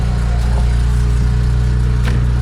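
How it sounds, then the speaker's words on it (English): A BMW 335i engine with wrongly connected O2 sensors idles loudly and unevenly up close, a steady low throb with slight irregular pulses and occasional faint clicks. "I plugged up the O2 sensors wrong, so that's why it's rough idling"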